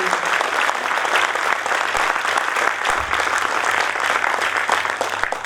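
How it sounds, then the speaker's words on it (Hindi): An audience in an auditorium at a Hindi poetry recital (kavi sammelan) gives loud, dense applause that carries on steadily from start to finish. "जरा एक बार जोरदार ताली बजे"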